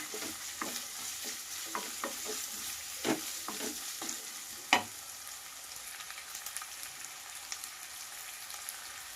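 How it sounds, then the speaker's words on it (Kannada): Vegetables with green chilli and capsicum stir-frying for fried rice, a steady sizzle broken by repeated scraping stirs of a spatula in the pan, close and moderately loud, with no talking. "ಈಗ ಹಸಿಮೆಣಸಿನ್ಕಾಯಿ ಮತ್ತು ಕ್ಯಾಪ್ಸಿಕಮ್ ಹಾಕೊಂಡ್ಬಿಡೋಣ."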